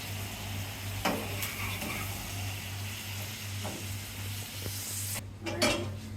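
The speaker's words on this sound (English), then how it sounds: "allow this to saute a little in the pot" Seasoning for Jamaican-style curried shrimp sautés in a pot with a steady, low sizzle. A spoon scrapes and clinks against the pot now and then, close by.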